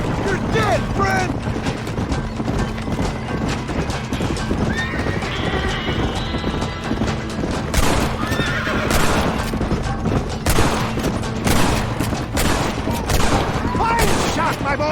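Gunshots ring out in the Western video game Red Dead Redemption amid a busy mix of horse hooves clip-clopping and whinnying, several sharp cracks scattered through a dense, loud action scene with voices.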